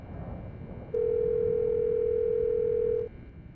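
A telephone tone from the Silent Hill Shattered Memories video game, a single steady electronic tone about two seconds long that sounds loud and clear over low background hiss after a short quiet lead-in.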